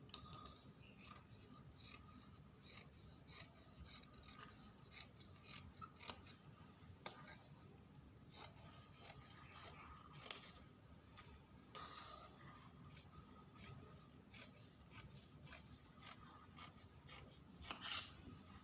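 Scissors cut through a hijab sewing pattern: a long run of quiet, crisp snips and blade clicks spaced irregularly, close and faint, with a couple of sharper cuts standing out.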